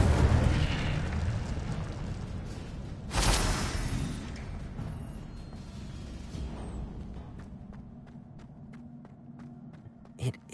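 Incendio fire spell cast in Hogwarts Legacy, a loud fiery whoosh and burst of flame followed by crackling, rumbling fire that fades, with a few sharp clicks near the end.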